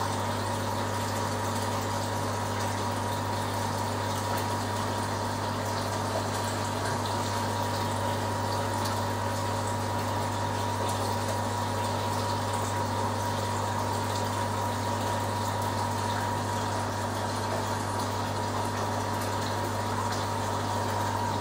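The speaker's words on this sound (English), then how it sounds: "opening up the ball valve and letting more water pump through." A steady mechanical hum of a pump pushing water through piping and an opened ball valve, constant and unbroken with a low drone and a faint watery hiss throughout.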